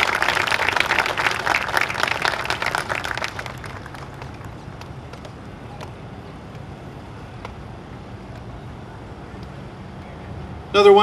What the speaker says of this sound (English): Another wonderful round of applause for all of our recipients